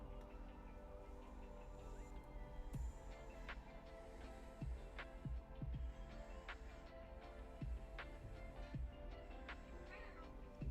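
A cat meows several times at moderate distance while a sculpting session goes on, with steady background noise, scattered taps and clicks, and some talk in between.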